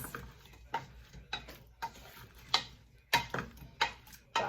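Strawberries for jam being mixed in a pan over low heat: a run of soft, close, rhythmic scraping and tapping strokes from the spoon, quiet and with no one speaking.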